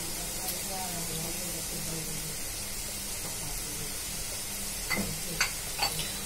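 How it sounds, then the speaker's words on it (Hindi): Gajar ka halwa (carrot pudding) cooking in a pan, a steady low sizzle with occasional scraping stirs, a few sharper clinks of the spoon toward the end, close and moderate in level. "दस मिनट और पका लें और इसे चला लें।"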